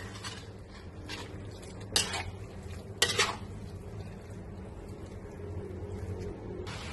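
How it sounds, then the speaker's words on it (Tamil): Mee hoon noodles are stirred in a pan, with soft scraping and two sharper metallic knocks of a utensil against the pan over a faint background hum, close but fairly quiet, with no talking. "கிண்டணும்னா இந்த மாதிரிதான் கிண்டணும்."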